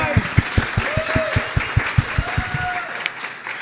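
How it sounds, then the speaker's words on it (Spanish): A studio audience claps steadily and rhythmically as the host welcomes guest Carla Panini, with a crowd murmur and faint whistles. The claps are close, loud and evenly spaced throughout. "Fuerte el aplauso, por favor."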